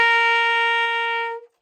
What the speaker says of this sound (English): start playing your high G, your G with the octave key, and that's what we're going to tune with